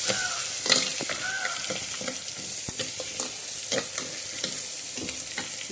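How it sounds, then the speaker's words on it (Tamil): Onions sizzling and frying in a pan with oil, stirred now and then with a spatula, giving a steady crackling hiss with scraping clicks throughout. "நல்லா வதங்கிடுச்சு. இப்போ நம்ம ஆனியன் சேர்த்துக்கலாம்."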